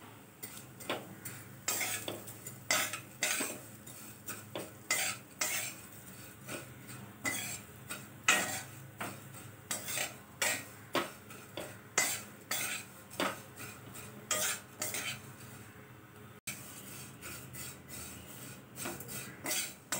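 Broken vermicelli roasts in hot oil in a pan and is stirred repeatedly until golden. Rhythmic spatula scrapes and clinks against the pan sound over a low sizzle.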